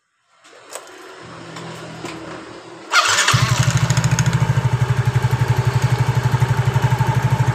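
A Yamaha Mio J scooter with heavy acceleration is started after a few faint clicks and an electric starter whir, then catches and settles into a loud, close, rhythmic idle.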